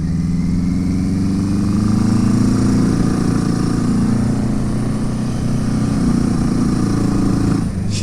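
A Suzuki GS850 scrambler motorcycle engine warming up after a clutch replacement, idling loud and close with a steady, slightly uneven rumble that dips near the end.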